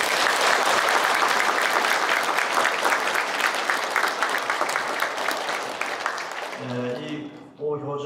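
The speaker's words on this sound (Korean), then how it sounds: "박수 한번 부탁드립니다." A church congregation at Sunday Mass applauds a parishioner who has stood up, a loud, dense round of clapping that gradually thins and fades, followed by someone speaking.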